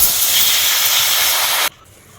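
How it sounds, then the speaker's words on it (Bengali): Water poured into a hot kadai on the stove hisses loudly and steadily, a broad steam roar that cuts off abruptly, leaving only a faint residual simmer. "কড়াই বসিয়ে দিয়েছি, এবার কড়াইতে জল দিয়ে দেবো"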